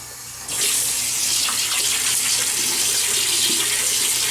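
Water gushes steadily from a tap into a sink, starting abruptly and running loud and continuous, used to wet the face before a shave.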